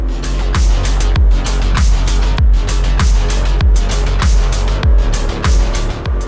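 A struggling, worsening motorcycle engine labours on a mountain road in Wixárika territory in Mexico, a loud, rough drone broken by regular pulsing bursts about every half second, running unbroken for six seconds with no talk.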